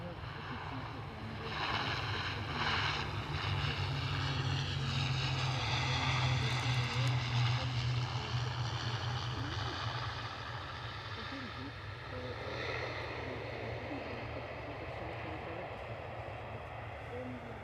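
A KLM airliner pushes back at Edinburgh Airport, its engines a steady low rumble with a soft whine above, heard from a distance and holding fairly level, with faint voices in the background.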